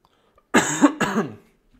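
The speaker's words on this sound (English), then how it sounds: "Sorry, I need to cough." Two quick, harsh coughs in succession, close and fairly loud, with silence before and after.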